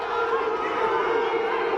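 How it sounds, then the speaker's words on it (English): A wrestling match crowd in a college dual meet shouts and clamors steadily for a two-point call, a dense, loud wall of voices throughout with no distinct individual words. "the crowd wants a 2 call here"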